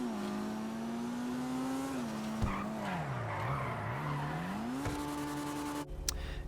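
The Penumbra sports car from the video game GTA Online drifts with a long, loud tire squeal over a steady engine drone, the screech rising and falling in pitch before cutting off near the end.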